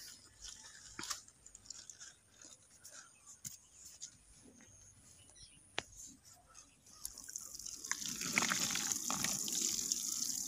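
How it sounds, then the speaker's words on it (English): Water poured onto garden soil prepared for sowing green sorrel, a soft continuous trickle that swells into a louder, steadier splashing stream near the end, with no talking. "we are going to water the soil."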